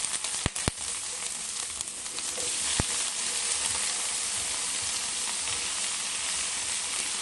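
Shrimp sizzle in a hot pan with ginger, a loud, even frying hiss that runs throughout, broken early by a few sharp clicks and a single tap of a utensil.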